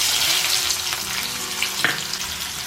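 Chopped onion hits hot oil in a kadhai and sizzles loudly, a continuous crackling hiss with brief stirring and scraping sounds, close and without any talk.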